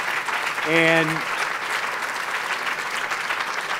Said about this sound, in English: let's just give a round of applause first, though, Congressman Will Hurd, Congressman Pete Aguilar